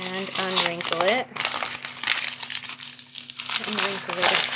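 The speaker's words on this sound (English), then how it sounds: "We're going to wrinkle up the paper" Paper crinkled and crumpled by hand up close to age a homemade treasure map, with continuous crackling rustles and a voice speaking over it now and then.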